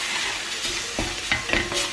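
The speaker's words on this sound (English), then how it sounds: "So now I'm going to add my spices into the onions." Red onions and spices frying in a pan for a salmon curry give a steady close sizzle, broken by a few scraping stir strokes near the end.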